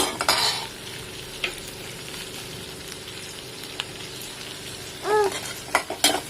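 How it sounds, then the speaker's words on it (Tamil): Chopped coconut sautéing in a pan for a Tirunelveli egg curry, a soft continuous sizzle broken by brief clinks and scrapes of stirring. "நல்லா தேங்காயும் வதங்கட்டும்."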